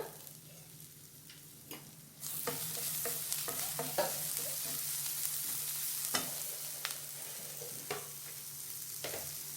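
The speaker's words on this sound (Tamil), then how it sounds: "இந்த அளவுக்கு நல்லா வெங்காயம் வதங்கிரணும்." Onions sizzle steadily in a pan for a mushroom cheese sandwich, with a spoon stirring and scraping at irregular intervals. The frying starts abruptly and stays close and moderately loud, with no talk.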